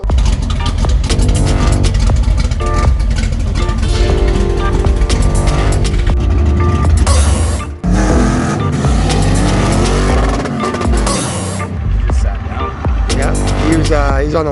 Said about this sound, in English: he's on the limiter quick